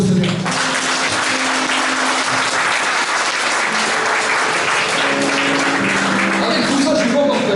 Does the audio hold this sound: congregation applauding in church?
yes